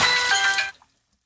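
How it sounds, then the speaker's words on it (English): Water splashes onto a camera on a boat, giving a loud, bright wet burst that cuts off abruptly after about two thirds of a second, followed by near silence. "Bill, you splashed my camera."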